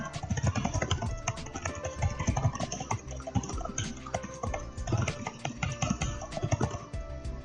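Quick, irregular clicking of fingers typing on a computer keyboard, close and fairly quiet, keys tapping in uneven bursts with no talk over it.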